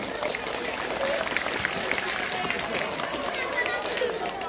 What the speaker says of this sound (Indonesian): Tepuk tangan dulu untuk teman kita ini